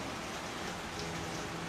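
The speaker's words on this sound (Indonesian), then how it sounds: "ini suara hujan kedengeran nggak?" Steady rain falls outside, a dense even hiss of drops with no pauses, moderately loud and continuous, with no voices over it.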